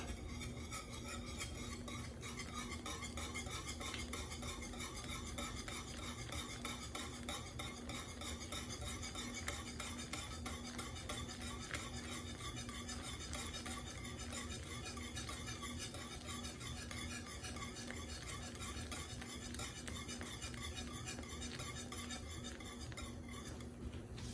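A spoon steadily stirs hot and sour chicken soup in a pot, with faint repeated scraping and clinking against the metal over a constant low hum, quiet and unbroken throughout.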